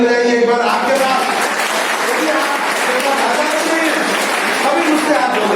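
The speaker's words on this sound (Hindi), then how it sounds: "ताली बजाइए एक बार आपके पास" Audience applause in a university hall during a communication skills session, steady dense clapping lasting throughout with voices mixed in under it.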